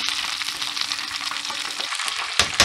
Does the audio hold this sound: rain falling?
no